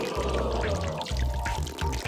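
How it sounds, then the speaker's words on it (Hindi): Cartoon water pouring into a water balloon, a continuous gurgling, bubbling fill heard close and steady for about two seconds with no talking over it. "पानी भर रहा है।"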